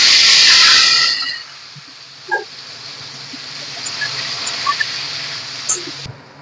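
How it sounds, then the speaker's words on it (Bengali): Potatoes are dropped into hot oil with a loud hissing sizzle for the first second, which settles into a softer, steady frying crackle with a few small clinks. "আলুটা দিয়ে একটু আগে ভেজে নেবো।"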